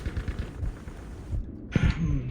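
Rapid bursts of gunfire in Battlefield V, a run of sharp repeated shots that breaks off briefly and then resumes with heavier close reports.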